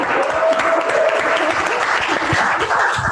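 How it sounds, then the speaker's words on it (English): A conference audience applauds the payments panel, a dense steady wash of clapping filling the room from start to finish at even loudness. "can I get a round of applause for the panel here?"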